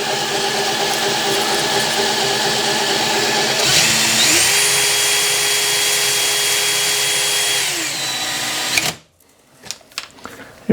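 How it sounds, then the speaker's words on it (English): A power drill, used in place of a lathe to machine a custom 1.5GT timing pulley, whirs steadily for several seconds, its pitch rising slightly mid-run, then winds down and stops, followed by a few quiet clicks. "Turn on the drill."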